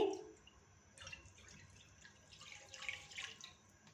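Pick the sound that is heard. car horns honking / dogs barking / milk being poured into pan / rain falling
milk being poured into pan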